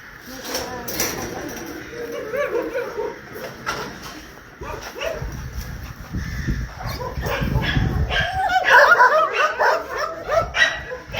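Excited pet dogs bark and yip over one another, some close and some farther off, building louder toward the end while someone talks in French throughout.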